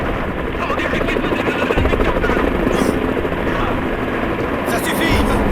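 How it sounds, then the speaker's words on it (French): Helicopter rotor and engine noise from an animated Final Fantasy action film, a loud steady roar with rhythmic chopping throughout, mixed with shouting voices and action sounds. "L'hélicoptère vient juste de décoller!"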